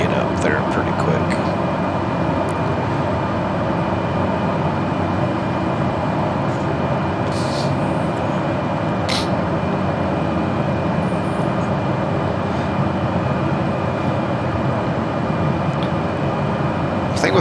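An airliner climbing out at 100 knots in Microsoft Flight Simulator 2020, a steady broadband engine roar and airflow drone held evenly throughout, with a few faint clicks.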